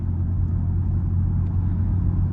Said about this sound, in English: Valves closed, so I'll drive around a bit, slow down a little